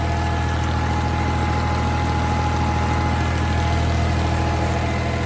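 A motor runs steadily during a wheat harvest, giving a loud, continuous engine hum with a low, even throb that never changes throughout.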